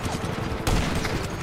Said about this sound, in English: stop shooting at that one